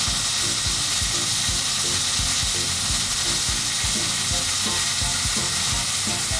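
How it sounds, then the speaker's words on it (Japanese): Loud, steady sizzling of chicken breast frying in a hot pan, a continuous crackling hiss with bursts of popping, no voices. "ジュージュー良いサウンド、この音でね、すごい音好きです。"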